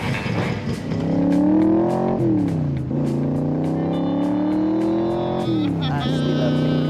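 A Cobra car with side exhaust pipes drones through rising engine revs and gear changes, a loud, close rumble that climbs, drops and climbs again while people talk.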